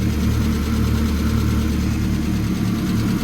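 A twin-engine all-wheel-drive Hyundai Getz runs at idle, a loud, steady low engine rumble with a rapid even pulse, heard up close and continuous with no talk.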